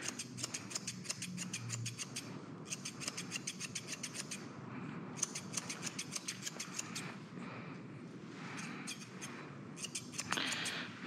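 Scissors snipping fur close to the ear of a 16-year-old Westie during grooming: soft, quick, repeated metallic snips in steady runs, quiet and close, with no talking.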